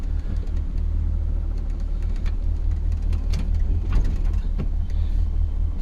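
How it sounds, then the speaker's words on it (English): The engine of a 1966 Ford Galaxie 500 convertible idles rough, with a loud, steady low rumble and uneven mechanical knocks and creaks running through it. No one speaks. "Look at how rough the engine runs."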